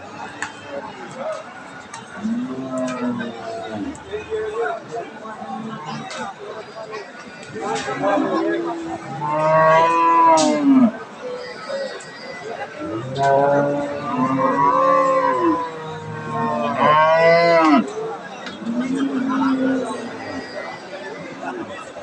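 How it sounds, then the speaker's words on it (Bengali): A Nepali cow lows in several drawn-out moos close by, mixed in with people chatting loudly around it. "এইখানে একটা গাভী দেখছিলাম, গাভীটা কিন্তু নেপালি।"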